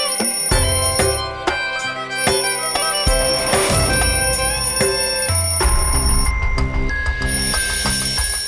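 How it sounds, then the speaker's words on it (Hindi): An electronic alarm rings loudly and steadily, a bright repeating bell-like tone sequence that keeps going without pause, with no voices heard. "तुम्हारा अलार्म बज रहा है, बंद करो।"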